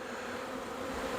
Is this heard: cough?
no